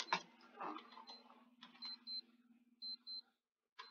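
Short electronic beeps from a wristwatch alarm sound in small pairs with pauses between them, faint and thin, following a few brief muffled voice sounds early on.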